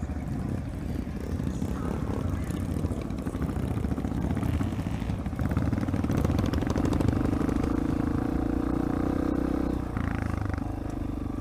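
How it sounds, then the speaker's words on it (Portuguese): Motocross dirt bikes run nearby at a track, a rough mid-volume engine drone with idling chatter that swells briefly as one revs harder, heard alone without talk. "Olha as motocas aí, ó."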